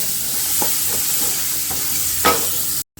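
Onion frying in a pan, a steady close sizzle broken by a few soft stirring scrapes and one louder knock near the end.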